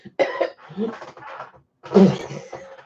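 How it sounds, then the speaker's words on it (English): Several harsh coughs sound up close, a burst near the start and a heavier one later, separated by short pauses. "Anybody start coughing?"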